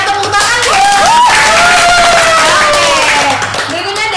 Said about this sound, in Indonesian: Oke, yeay, tepuk tangan.